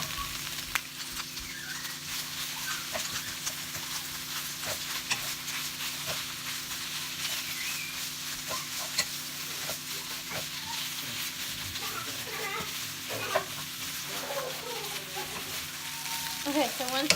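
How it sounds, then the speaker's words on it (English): Textured vegetable protein sautéing in a pan for a vegan grilled pork dish gives a steady, moderately quiet sizzle with light stirring scrapes and soft clinks throughout, with no talking. "you can go ahead and add in the TVP. And let that all"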